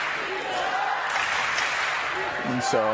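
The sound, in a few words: crowd chanting an archer's name at a match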